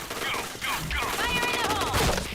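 Rapid video game gunfire from a shooter with no recoil, dense overlapping shots crackling continuously over game sound effects, loud and close throughout.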